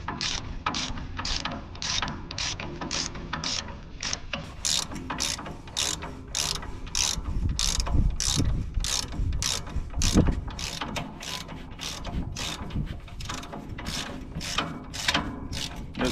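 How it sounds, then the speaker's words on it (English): A hand ratchet clicks steadily as bolts are backed out of the ball joints on a Ford SuperDuty front end, with rapid rhythmic pawl bursts close by and no talk throughout. "I'll back them all the way out, leave them on a couple of threads"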